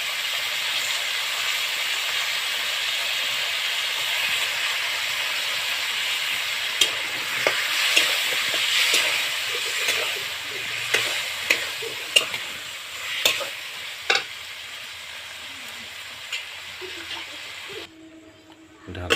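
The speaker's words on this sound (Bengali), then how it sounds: "মশলাটা কষানো হয়ে গেছে, এখন চিকেনটা ছেড়ে নেব। আলু আর মাংস একসাথে ছেড়ে দিল।" Chicken and potato pieces fry in a pan of cooked-down spiced masala, giving a steady bright sizzle, joined midway by repeated sharp scrapes and clacks of stirring that continue until a brief pause near the end.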